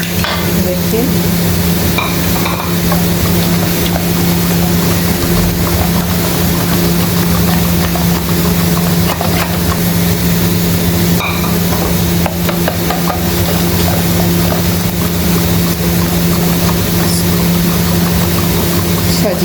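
Fudge brownie batter with eggs being mixed in a bowl, a steady, continuous stirring and whirring that runs evenly throughout with a constant low hum underneath.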